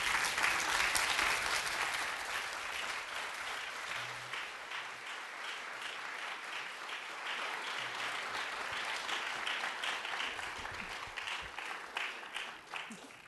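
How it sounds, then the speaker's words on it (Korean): A standing church congregation gives warm, sustained applause, a dense wash of many hands clapping that stays even and fairly distant before thinning out near the end. "여러분 좀 일어나서 뜨거운 박수로 격려 좀 하시기 바랍니다"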